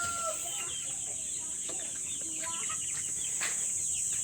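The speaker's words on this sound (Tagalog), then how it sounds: "Ito yung mga sisiyo natin" Rhode Island, Black Australorp and Light Sussex chickens and chicks in a poultry pen, with soft clucks and peeping chirps scattered over a constant high, faint hiss.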